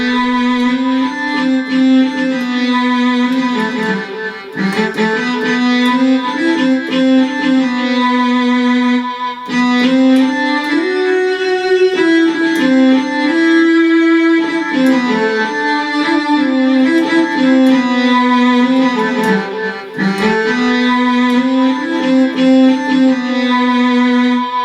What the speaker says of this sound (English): I've layered a violin sound with a cello sound to give it a bit more depth